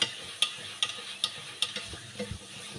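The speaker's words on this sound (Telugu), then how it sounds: "ఇలా సబ్బు కానీ ఏదైనా లిక్విడ్ కానీ తీసుకొని ఇలా అయితే రుద్ది చేసుకోవాలి బాగా" A new cast iron pan is scrubbed with soap, giving regular, close scraping strokes, roughly one every half second, fairly quiet and with no talking.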